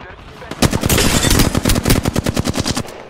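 Bursts of rapid automatic gunfire in the battle royale game Apex Legends, loud and close, firing in a dense stream before breaking into a quick rhythmic series of separate shots.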